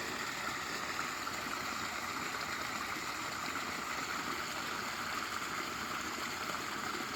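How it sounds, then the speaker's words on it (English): A small waterfall on the Flagler Trail in Florida gives a steady, even rush of falling water that stays close, continuous and unchanging, with no voices over it. "Pretty typical Florida waterfall."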